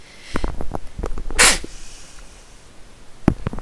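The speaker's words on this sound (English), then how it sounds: "I sneezed into my hand." A quick, sharp sneeze bursts out amid soft clicks and breathing, followed by a small thump.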